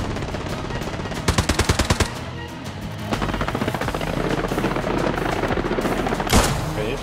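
Gunfire in the World War II shooter game Hell Let Loose: bursts of rapid machine-gun fire and scattered single shots, some close and sharp, others distant, over constant battlefield rumble, ending with one loud nearby blast.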